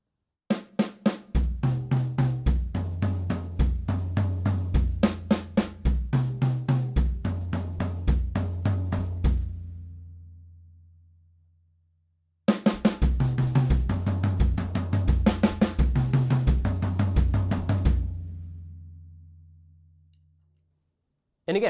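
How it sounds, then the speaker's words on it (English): A drum fill moves around the snare, tom and floor tom with bass drum doubles, played twice in rapid, evenly spaced sixteenth-note strokes. Each run stops and rings out to silence, and no one speaks. "Let's go right around the drums in the snare, tom, floor tom pattern that we've done for some of our earlier fills."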